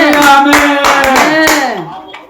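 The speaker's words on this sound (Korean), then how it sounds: "박수!" A church congregation claps during a Korean worship service, the hand claps mixed with loud, sustained shouted voices from the crowd, close and energetic for about two seconds.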